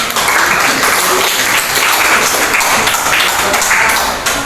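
A classroom full of students claps together in a dense, loud burst of applause that holds steady for several seconds before easing off slightly at the end.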